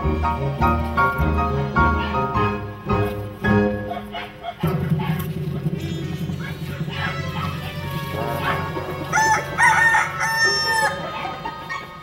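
A flock of farm chickens and fighting roosters clucks and squawks in agitated alarm around an intruding snake, with a rooster crowing loudly and a dog-like bark mixed in; a narrator speaks over part of it.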